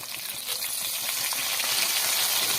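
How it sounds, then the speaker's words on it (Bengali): Steady, close sizzling and crackling of onions and cumin frying in hot oil, continuous and fairly loud throughout with no talking. "পেঁয়াজটা ভেজে নিই"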